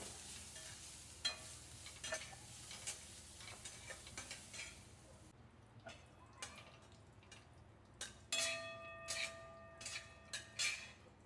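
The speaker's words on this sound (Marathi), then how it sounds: "कांदा परतून घ्यायचा" Chopped onion with a little salt sautéing in a pan, stirred with scattered spoon scrapes and clinks over a soft, faint sizzle, with a few ringing metallic taps near the end.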